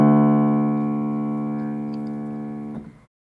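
The lowest D of the sequence on a keyboard, a deep single note ringing for nearly three seconds before being released with a faint click, then silence.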